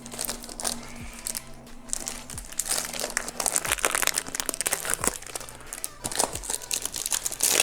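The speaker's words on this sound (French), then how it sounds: "il y a un classeur qu'on va déballer tout de suite" Crinkly plastic wrapping being torn and peeled off a Yu-Gi-Oh card binder, a steady close-up rustle and crunch running throughout.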